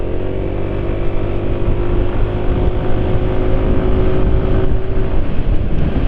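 A modified CVT motorcycle, apparently on stock tyres, is held at full throttle. The engine gives a loud, steady, droning roar up close for the whole stretch, with a whining pitch that climbs gently and no voices.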